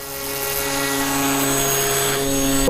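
A radio-controlled airboat motor drones steadily at just over half throttle, with a sustained close buzzing hum and strong tonal harmonics holding even throughout, no speech.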